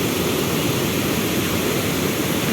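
Heavy flow of a swollen mountain stream in a hilly village area after flooding, a loud, steady broadband rush of water filling the whole clip with no pauses.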